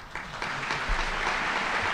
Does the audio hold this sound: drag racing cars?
no